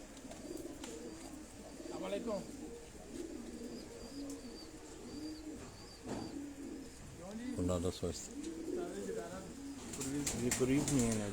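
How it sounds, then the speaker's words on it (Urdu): Sialkoti breed pigeons coo in soft, repeated rolling phrases from close by, with faint wing flutters and steady background noise throughout. "یہ بٹیرا صنف کے یہ کبوتر, سیالکوٹی نسل کے یہ کبوتر ہیں"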